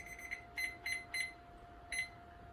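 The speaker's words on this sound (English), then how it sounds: "Oh, there's the alarm, Carlo." A kitchen timer alarm for cookies baking in the oven gives soft, high electronic beeps in short clusters, four spaced bursts and then another after a pause, heard faintly over a steady hum.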